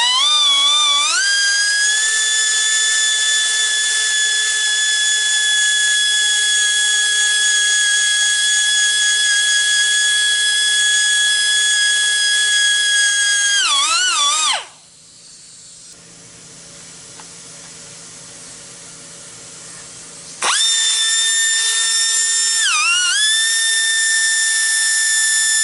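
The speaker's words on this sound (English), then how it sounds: "just do the same thing on the grinding wheel again and reshape this" A bench grinding wheel reshapes the worn point of a gas welding rod, giving a loud, steady high-pitched whine that drops away for several seconds in the middle, then spins back up.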